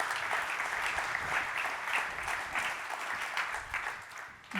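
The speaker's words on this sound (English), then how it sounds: "I think we can give a great round of applause already for our speakers" Steady applause from a conference audience at a private debt forum round table, dense clapping sustained throughout without pause, fairly distant and even in level.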